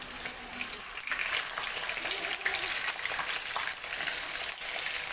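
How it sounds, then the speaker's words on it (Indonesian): Marinated tofu frying in hot cooking oil, a steady close crackle and hiss of broadband sizzling that holds fairly even throughout, no voices. "Panaskan minyak goreng secukupnya, lalu masukkan tahu yang udah dimarinasi tadi."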